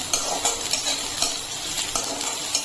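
Onions with dried curry leaves sizzle in a hot pan as a spoon stirs and scrapes them in soft, repeated strokes, fairly close and with no talk.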